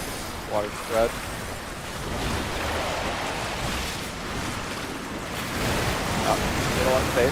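Broad rushing wash of water spreading across a video game arena, a steady surf-like roar running throughout with faint voices over it.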